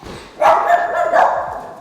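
A King Charles Spaniel dog gives a short, drawn-out bark or yelp, fairly close and loud. It lasts about a second against a quiet room background.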